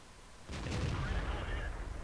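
A T29 tank's cannon fires in World of Tanks with one sudden heavy boom that rolls into a sustained rumbling roar, fairly faint overall.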